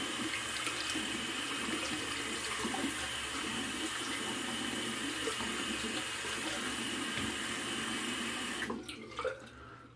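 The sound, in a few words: water being poured out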